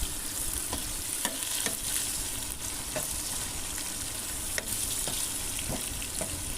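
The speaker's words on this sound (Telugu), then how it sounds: "ఆనియన్ మిర్చి మంచిగా వేగడానికి అందులో కొద్దిగా ఉప్పు అయితే వేసుకుందాం." Onion and green chillies fry with a pinch of salt in a pan for a chicken and broad bean curry, giving a steady, close sizzle with periodic scrapes and clicks as a spoon stirs them.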